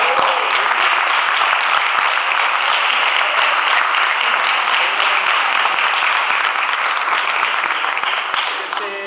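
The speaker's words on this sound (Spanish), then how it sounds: "Así que un aplauso para agradecer a esta" An audience applauds at a lecture on Marxism and class struggle, with loud, dense clapping that goes on steadily for about nine seconds before fading slightly at the end.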